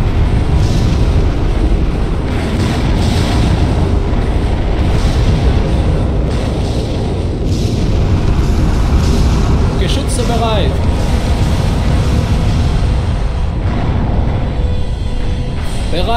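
Artillery shelling in the Order of War strategy game, a constant heavy rumble of booms and blasts at high volume throughout, with faint voices over the din.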